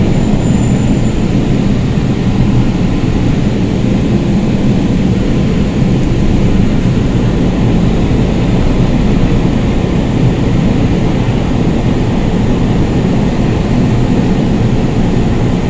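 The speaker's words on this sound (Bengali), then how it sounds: "এই মেট্রো রেলটি যাচ্ছে, এটি হলো অরেঞ্জ লাইন" Steady loud rumble of a Kolkata Orange Line metro train running on a rainy day, a continuous dense roar with no breaks and no talking.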